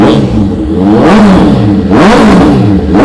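A Honda CBR650F sport motorcycle engine revs repeatedly, rising and falling in pitch with a rough, throaty roar, very close and continuous, with the exhaust blocked.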